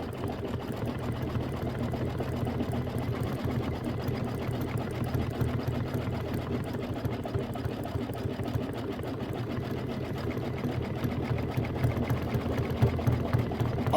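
A sewing machine stitching a quilt block runs continuously at close range, a steady even motor hum with rapid needle chatter and no pauses.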